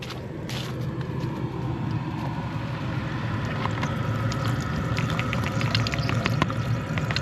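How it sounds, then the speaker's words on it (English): The electric water pump on a 2009 BMW 328i with the N52 engine runs with a steady, even whirring hum. It holds at a constant close level for the whole stretch, with faint ticks over it. "Okay, the pump's running."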